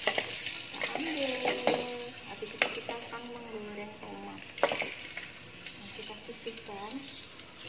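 Tomatoes sizzling in a hot pan with occasional stirring clatter and scraping; a voice speaks intermittently over the steady frying hiss.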